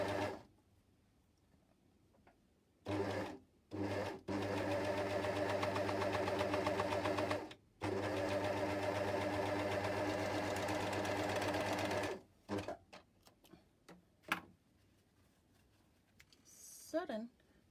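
An air overlock sewing machine stitches fabric in loud, steady whirring runs of several seconds, stopping and starting, with a person speaking softly in the pauses.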